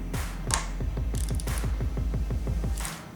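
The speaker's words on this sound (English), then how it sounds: "take your torque wrench and tighten each of those 4 stem bolts up to 5 Newton meters" A torque wrench tightening the stem bolts to 5 newton meters on a Dolan Rebus carbon road bike gives a steady run of close, crisp ratchet clicks in an even rhythm, heard alone.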